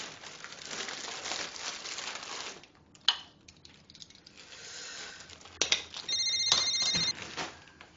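A telephone rings during a phone call at a small home chip-selling business, a repeated electronic ringtone pattern heard near the end over faint rustling and background room noise.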